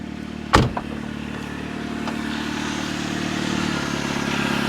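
A 1992 Saturn SL2 beater car, heard with a sharp clunk near the start, likely a door or gear engaging, then a steady engine hum that slowly builds as the car pulls away and drives.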